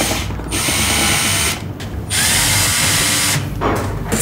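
Ratcheting screwdriver or drill tightening CPU cooler screws on a socket during a PC build, a Aorus cooler; loud, close buzzing bursts in three runs with short pauses between, no talk.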